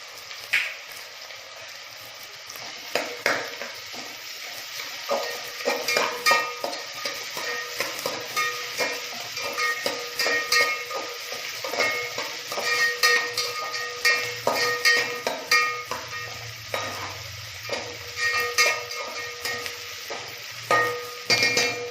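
Ginger garlic paste fries and sizzles in a pan for simple chicken biryani, a steady close crackle broken by the clink and scrape of a spoon stirring, with no talk.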